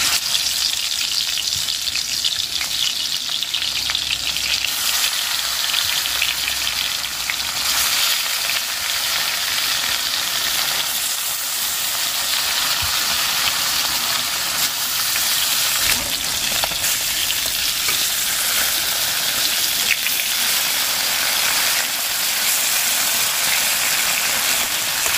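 Small pieces of fish frying in batches in a pan, a steady, dense oily sizzle that carries on without a break from start to finish, close and fairly loud, with no one talking.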